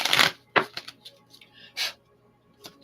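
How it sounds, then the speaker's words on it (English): Tarot cards being shuffled by hand, a burst of riffling followed by scattered soft taps and slaps of cards landing, close and fairly loud with brief quiet gaps. "Let's shuffle one more time."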